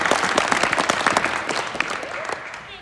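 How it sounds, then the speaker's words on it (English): Lively audience applause at a Missoula Children's Theater show, dense clapping and crowd noise that gradually fades, with a few voices mixed in. "Let's give her a round of applause."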